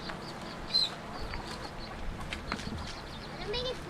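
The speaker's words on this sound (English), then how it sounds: "Looks like Jess caught a chicken once again." Chickens cluck in short scattered bursts on a Kauai property, close and moderately loud, with a brief louder squawk early on under people talking nearby.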